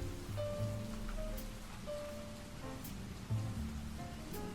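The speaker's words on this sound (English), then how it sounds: "Oh, I have rain sound effects on." Rain sound effects play as a steady, soft patter in the background, continuous and fairly quiet with a faint tonal hum and occasional clicks running alongside.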